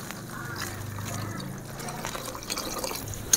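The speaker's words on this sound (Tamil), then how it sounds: "இப்போ நம்ம தண்ணியை ஊற்றிக்கலாம்." Water pours steadily into a pot, a continuous splashing rush at close range with a small knock at the end.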